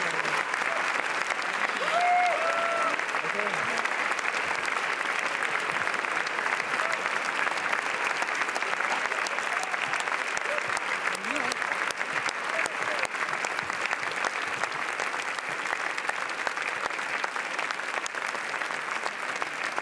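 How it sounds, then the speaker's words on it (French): A crowd applauds the film team of Armageddon Time arriving on the red carpet steps at the Cannes festival in 2022, with steady dense clapping sustained throughout and a few faint voices beneath. "L'équipe du film très applaudie."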